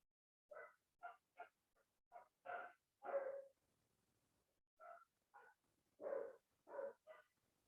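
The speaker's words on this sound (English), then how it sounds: "I have 4 dogs outside right now" Four big dogs bark outside in short, repeated bursts, loosely grouped with brief pauses between volleys, sounding fairly distant and faint.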